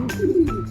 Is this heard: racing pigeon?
yes